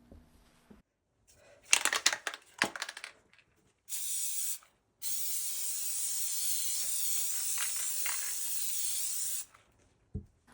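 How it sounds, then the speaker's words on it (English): Short metallic rattles and clinks, then a brief hiss of spray, followed by a long, steady aerosol spray of Gorilla Glue spray adhesive onto a mailer bag lasting several seconds before cutting off. "I'm using that Gorilla Glue spray again, and I am spraying it onto the mailer bag"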